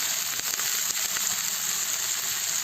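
Colored bell peppers sizzle steadily in a frying pan, a constant loud hiss with small crackles running throughout.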